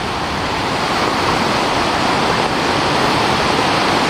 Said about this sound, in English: It's now a raging torrent.